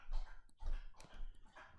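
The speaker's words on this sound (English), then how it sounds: "that is the dog drinking from his bowl." A dog laps water from his bowl up close, with a few quick, wet bursts of drinking and short pauses between them.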